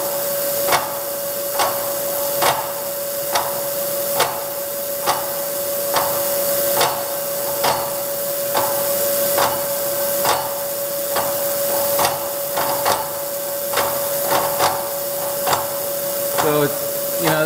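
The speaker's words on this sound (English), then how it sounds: "This is a pretty coarse tooth saw" A coarse-tooth hand saw cuts at a corner edge while making an etching press bearing housing, giving steady, regular rasping strokes at roughly one stroke per second, up close and alone, over a constant background whine.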